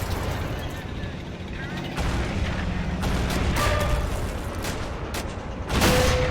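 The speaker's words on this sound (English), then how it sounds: "Put a shot right into the front of a Japanese tank." Tank cannon fire and battle noise in the Men of War: Assault Squad game, as US Marines attack a Japanese tank on Saipan in 1944. Heavy booms land around 2 and 6 seconds over constant dense rumble, with a voice talking underneath.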